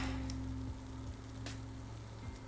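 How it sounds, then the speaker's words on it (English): Food sizzling in a pan: quiet, steady crackling sizzle with a low hum underneath, continuous and close, with no voices. "You hear the sizzle?"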